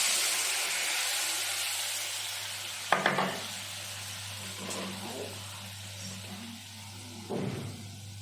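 Boiled mung dal going into a hot kadai of oil, giving a steady sizzle under a low constant hum, with a sharp splattering burst when the dal hits the pan and another burst of stirring scrapes later.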